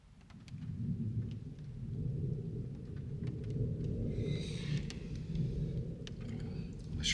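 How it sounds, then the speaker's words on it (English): Rolling thunder rumbles low and continuous as rain begins to patter steadily, with scattered drops and brief crackles of water noise, fairly quiet overall and without talk. "It's starting to rain."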